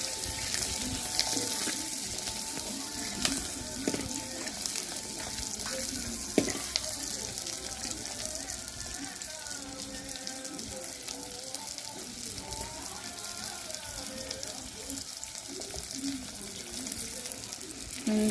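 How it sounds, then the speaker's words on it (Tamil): Onions sautéing in a pan for Tamil onion kara kuzhambu give a steady, moderate hiss and sizzle that runs through the whole stretch, with faint scraping and a few clinks, and no one talking. "பச்சை வாசனை போகிறதுக்கு நல்லா வதக்கணும். வெங்காயம் நல்லா வதங்கணும்."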